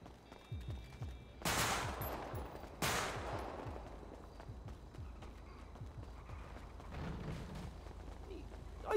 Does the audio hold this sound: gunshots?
yes